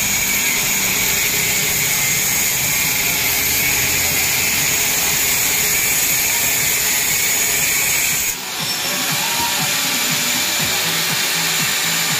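Tools work on a loose, rattling car exhaust muffler as it is removed, producing loud, continuous grinding and rasping noise that shifts in tone near the end.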